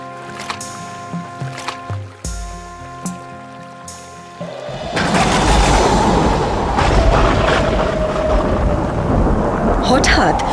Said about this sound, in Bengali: হঠাৎ নদীতে প্রচন্ড ঝড় ওঠে